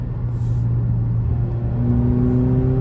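An Alfa Romeo Stelvio 2.0 accelerates hard, its engine a loud, steady droning rumble from inside the cabin, with the pitch climbing gradually toward the end.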